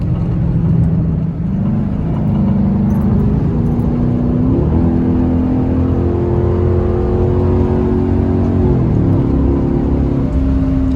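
A straight-piped Chrysler 300C with a Hemi V8 drones loudly on the highway, its exhaust rising and falling through several revs and shifts in a continuous, close, deep engine roar with no talking.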